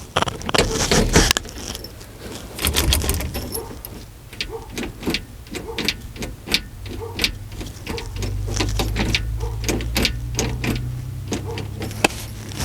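Metal keys, including an original Chrysler key, jangle and clink in short bursts, with clicks and rustling handling noises and a low rumble from a nearby old Dodge D-600 truck.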